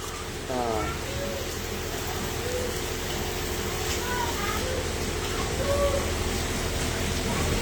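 Steady rain falls in Tapa Mandi as a constant broadband hiss, with faint bird chirps and distant background sounds scattered over it.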